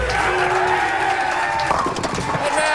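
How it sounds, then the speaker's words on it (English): Big crowd cheering and roaring at a bowling tournament, the Miller High Life Open, a steady loud wash of voices and applause that holds throughout. "the big crowd is certainly rooting on the Chief"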